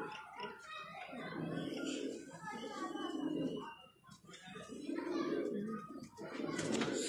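Rampuri pigeons coo repeatedly at close range in soft, throaty rolling calls, with voices nearby.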